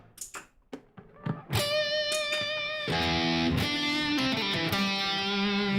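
Heavier distorted lead tone from an electric guitar: a few quick muted picks and single notes build into thick, sustained saturated chords and bends that ring on loudly, played alone.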